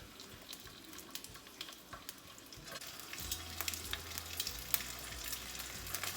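A pepper-coated ahi tuna steak searing in a hot pan, a soft hiss that grows louder partway through with scattered crackles and pops, close and fairly quiet, no talking.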